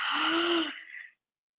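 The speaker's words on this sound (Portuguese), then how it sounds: "a gente já pode fazer esse bocejo bem sonoro" A loud, voiced yawn during an adult choir voice warm-up, a long open-mouthed tone that holds steady, then trails off into a breathy exhale and stops, close and alone.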